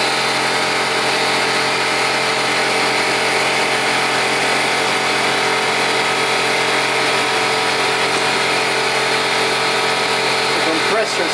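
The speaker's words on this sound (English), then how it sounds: "Compressor's kicking in, of course," A shop air compressor kicks in during a 2007 Toyota Tundra 2WD regular-cab short-bed oil change, giving a steady, loud mechanical drone and whine that runs unbroken through the whole stretch.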